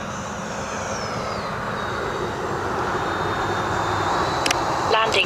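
An FMS F-86 Skyblazers 80mm electric ducted-fan RC jet flies overhead, a steady whooshing roar that holds for several seconds, with a faint rising whine and a couple of brief clicks near the end.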